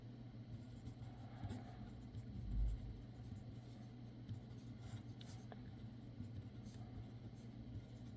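Pen or pencil scratching across a new page while solving a physics problem, faint and continuous over a steady low rumble, with no talking.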